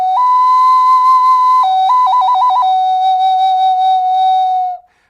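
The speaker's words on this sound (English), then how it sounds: "These are all bird whistles. And this one sounds like this." A shrill wooden bird whistle blows a long steady tone, then a rapid warbling trill, then another long held note that cuts off abruptly. No other sounds.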